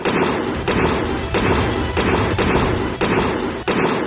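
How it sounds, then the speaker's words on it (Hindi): Heavy bursts of rifle gunfire during a military exercise roll out in repeated booming volleys roughly every half second to second, loud and continuous, with no voices. "राफेल की गोलियों की तड़तड़ाहट"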